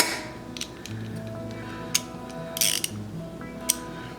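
Screws being tightened on a Trophy Ridge V-Con arrow rest, heard as soft close-up ratcheting clicks and small metallic ticks, with a few sharper snaps standing out.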